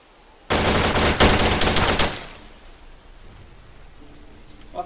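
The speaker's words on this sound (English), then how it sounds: "there's a lot of shots out there" Heavy gunfire bursts out loud and close in an Arma 3 DayZ game, a dense stuttering volley lasting about a second and a half before fading into low rumbling ambience with quiet background noise.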